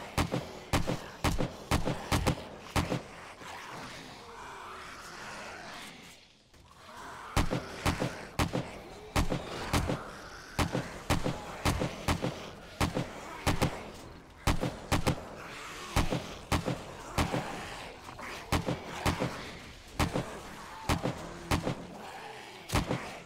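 Rifle fire in 7 Days to Die during a zombie horde night, sharp loud shots repeating in a steady rapid rhythm with one short pause, close and dominant over faint talk.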